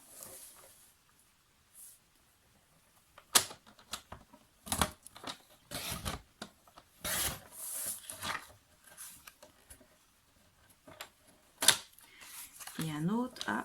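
A strip of card being cut to size for a handmade storage box, with sharp close snips and paper rustles among scattered handling noises, and a voice talking in places between the cuts.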